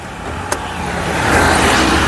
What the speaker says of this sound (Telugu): ఇంజన్ యొక్క నాయిస్ కూడా పర్ఫెక్ట్గా అయితే ఉందండి